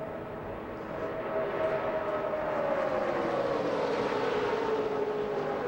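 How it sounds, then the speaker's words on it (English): NASCAR Nextel Cup stock car engines running flat out at the 2006 Aaron's 499 race, a dense steady roar with a slowly falling tone as cars pass, no talk heard. "You hear the sounds of the engine. They never waver."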